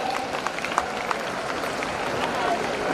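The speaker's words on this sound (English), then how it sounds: "please give a big round of applause for them once again" An audience at a one-day career enhancement programme in Hyderabad gives a round of applause for student coordinators, moderate scattered clapping in a hall with voices murmuring underneath.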